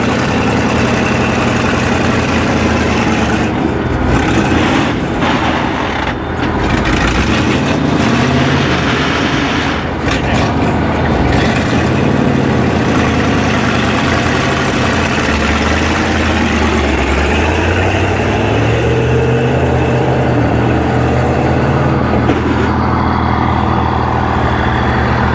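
An abandoned Chevy dump truck's engine runs at a loud, rough idle close by, a heavy low rumble that shifts in pitch as it revs slightly, with scattered knocks and clatter.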